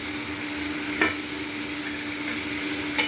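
Sliced potatoes and long-cut green chillies sizzle in a pan on an induction cooktop in a home kitchen, a soft steady fry with two quick spoon scrapes from stirring and no talking.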